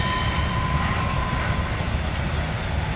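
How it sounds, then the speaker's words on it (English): A CSX manifest freight train rounds a curve, its wheels grinding and squealing against the rail with a continuous loud rumble and a thin high-pitched screech running beneath. "As the rear goes around that curve that causes all the rail grinding."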